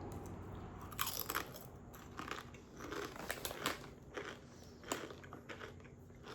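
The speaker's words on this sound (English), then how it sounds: "So kettle chips tend to be much more crunchy." Close-up biting and chewing of crunchy kettle chips, sharp crisp crackles breaking out repeatedly in irregular bursts over several seconds, loud and near, with no talking.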